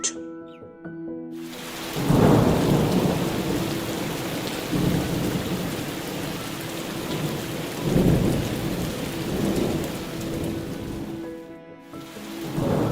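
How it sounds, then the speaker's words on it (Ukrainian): Steady heavy rain with deep rolling thunder swelling at intervals, loud and close, forming a continuous storm bed with no voices over it. "сонечко сховалося за хмари і пустився дощ"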